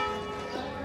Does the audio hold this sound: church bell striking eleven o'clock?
yes